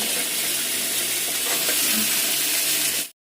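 Tomatoes and corn dropped into a hot, sizzling pan while making chicken stew, a loud dense frying hiss with stirring throughout that cuts off abruptly at the end.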